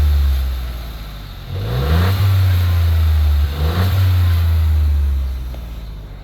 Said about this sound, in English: raise the engine and see if something is audible